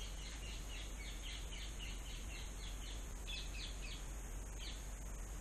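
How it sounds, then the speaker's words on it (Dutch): Birds chirp repeatedly at a distance, short high calls scattered over a steady hiss of background noise, fairly faint. "Hoor je die vogels ook?"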